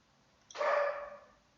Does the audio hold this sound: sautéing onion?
no